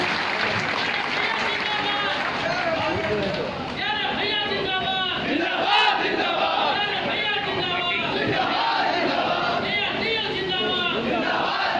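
A crowd at an Indian rally or union gathering applauds and cheers during a welcome ceremony, a dense roar of clapping and shouting that runs the whole time with voices calling out over it.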